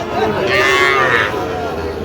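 A cow lets out a long, loud moo over a busy, crowded outdoor din of a cattle market in Satkhira, Bangladesh, with murmuring voices in the background.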